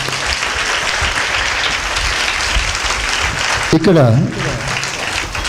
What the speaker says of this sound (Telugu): చప్పట్లు కొడదామా గట్టిగా?